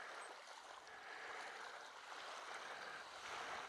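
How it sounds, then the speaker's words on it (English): Small waves lap steadily against the shore of Ullswater lake, a soft continuous wash with faint wind and no voices. "The little waves lapping in"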